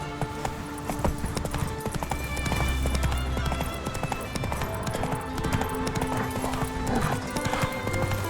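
A horse galloping in the video game The Witcher 3, rapid rhythmic hoofbeats clip-clopping up close under steady ambient game sound, with a brief neigh among the footfalls and a few quiet voices.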